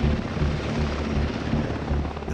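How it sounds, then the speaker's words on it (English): A mountain rescue helicopter, its steady rotor thump loud and close, a constant droning beat with no voices over it. "And I just see this helicopter."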